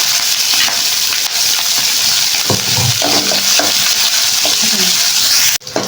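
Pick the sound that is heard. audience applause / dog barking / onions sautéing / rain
onions sautéing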